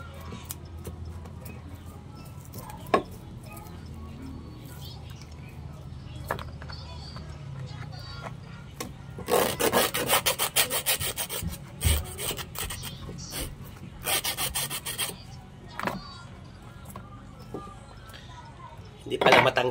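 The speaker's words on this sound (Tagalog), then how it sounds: "Sarap kaliskisan pag bagong huli." A freshly caught fish scaled by hand, bursts of scraping and rasping strokes against the skin with occasional clinks, close up, with people talking throughout.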